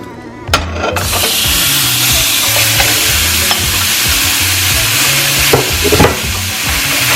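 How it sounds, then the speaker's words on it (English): Ground beef frying in a pan: loud steady sizzle with scraping and stirring knocks from a utensil, close up, no one speaking. "In a frying pan, add ground beef"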